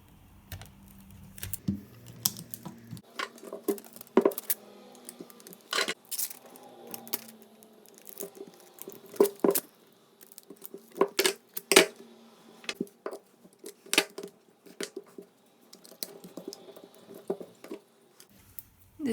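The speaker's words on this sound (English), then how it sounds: "At the beginning I will put this artist tape on these edges because I want my wood to be visible." Artist tape being pulled and pressed onto the edges of a wooden panel: a quiet, close series of short crackling strips and taps in irregular bursts, with no talking.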